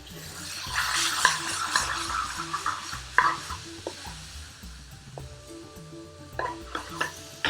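Bhuna chicken curry fries in a pan with a steady sizzle, broken by repeated stirring scrapes and clatters from a utensil, close and fairly loud with no voices.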